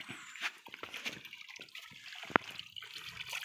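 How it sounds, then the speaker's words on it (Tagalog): Cold water welling up and trickling from a natural spring near Buntawan, a steady gentle flow with faint splashes and one sharp drip, heard up close with no talk. "bisan sa kainit sa panahon sige gyud gatubod ang tubig"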